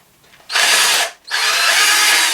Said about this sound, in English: See if the drill bit's going to play ball.